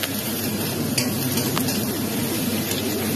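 Sponge gourd (patola) sautéing in a pan for a sardine and vermicelli soup makes a dense, continuous sizzle, with a few sharp utensil clicks against the pan; no voices.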